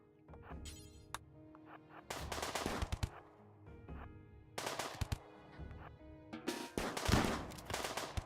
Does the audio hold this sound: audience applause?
no